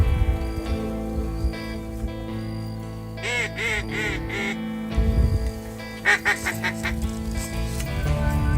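Geese and ducks honk and quack over a flooded rice field, their calls rising in bursts from a flock in the middle and near the end, against a steady low background drone.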